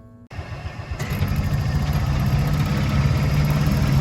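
A golf course maintenance vehicle starts up and drives down the seventh hole. A steady low engine drone builds and holds close by, with a faint whine above it.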